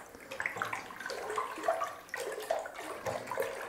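Zinfandel wine must made from concentrate being vigorously stirred, a soft, uneven sloshing and swirling of liquid that comes in rhythmic surges, quiet and close with no voices.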